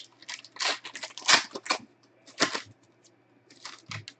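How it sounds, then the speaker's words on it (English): Sealed 2017 Elite Extra Edition baseball half case being unwrapped: irregular bursts of close, crisp plastic crinkling and tearing, separated by short quiet gaps, with no talking. "I'm just gonna freaking unwrap this entire thing real fast."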